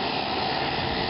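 A steady roar of an aircraft engine at takeoff power, broad and constant, heard from a distance with no voices.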